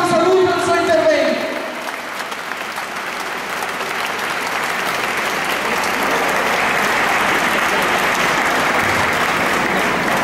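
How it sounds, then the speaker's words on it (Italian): Crowd applause at a political rally in Siena, following a voice over the first second and a half, then sustained dense clapping filling the rest of the clip at steady strength. "Un applauso per un saluto al suo intervento."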